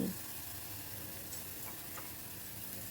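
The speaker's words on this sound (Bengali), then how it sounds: "হাই ফ্লেমেই রেখেছি তাই অনবরত কিন্তু নাড়ছি" Grated onion frying over a high flame, giving a constant dense sizzle and hiss for a few seconds, with faint stirring underneath and no voices.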